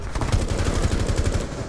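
Rapid automatic gunfire in Rainbow Six Siege, a close, loud, steady stream of shots at a fast even rhythm lasting the whole stretch.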